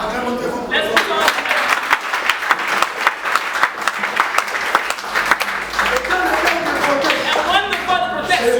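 Congregation at a church sermon clapping and cheering, a dense, loud burst of applause with sharp claps running throughout, voices mixed in the crowd.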